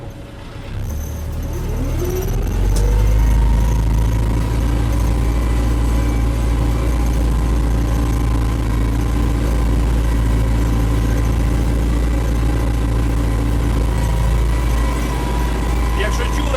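An MTZ-892 tractor engine drones steadily under load while deep-ploughing sandy soil with hydraulic weight transfer, a deep low rumble that holds throughout, with a voice talking over it.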